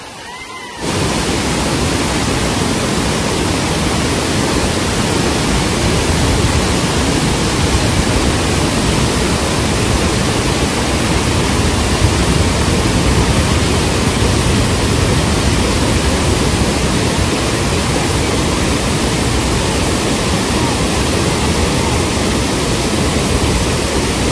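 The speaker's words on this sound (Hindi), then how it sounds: "इतना जबरदस्त पानी बह रहा है ना कि क्या ही बोलूं यार" Heavy water rushing at Narhara waterfall in Dhamtari, a dense, steady roar that fills the whole clip at close range after a brief quieter opening, with no voices.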